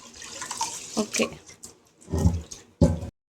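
Short splashes of water being poured into a cooking pot in a few quick bursts, with a brief spoken word between them indoors.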